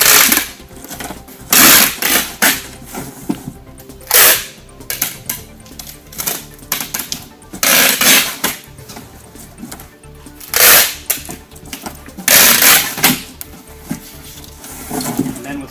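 Packing tape pulled and pressed across a cardboard box in an H pattern while packaging multiple hazmat items, giving several loud ripping, crackling bursts with short pauses between strips.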